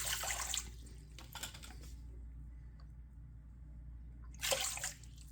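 Warm water is poured for kaiser roll dough in two brief, moderately loud splashing bursts, one at the start and one near the end, with quiet between and no talk.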